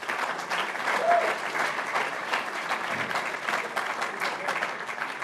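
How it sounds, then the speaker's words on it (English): An audience at a Hall of Fame program claps for volunteers in a sustained, moderately loud burst of applause, with a faint voice briefly audible in the crowd. "So let's give all of them a round of applause."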